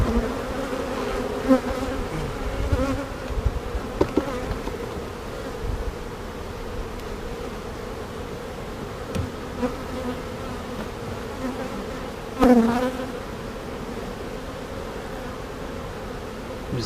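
Bees swarm around an open hive being inspected, a dense close-up buzzing drone that persists throughout with individual bees whizzing past the microphone and occasional light handling knocks.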